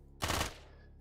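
A single burst of rapid gunfire from the video game Quasimorph, loud and sharp for a fraction of a second before cutting off into quiet game ambience.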